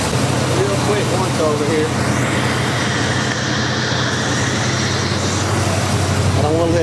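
A 1986 Chevrolet Monte Carlo SS engine idles with a steady, continuous rumble while someone speaks briefly nearby.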